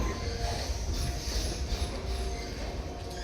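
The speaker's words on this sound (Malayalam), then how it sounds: "നമുക്കുള്ള ട്രെയിൻ ഇതേ വരുന്നുണ്ട്." A train approaching Kuttippuram railway station in Kerala, a continuous moderate rumble of wheels and carriages with faint metallic tones, heard from the platform without any talk.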